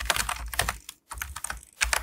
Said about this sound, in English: Select your text tool and type in your text.